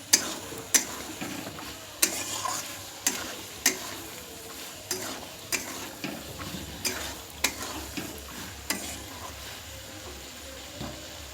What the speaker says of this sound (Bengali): মটরটা দিয়ে খুব ভালো করে কষিয়ে নেব